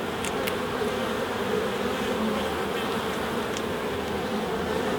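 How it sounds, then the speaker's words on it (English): Honey bees buzz steadily and densely around an open hive during an inspection, a continuous close swarm drone with no talking. "before the flying bees come back into this bottom box"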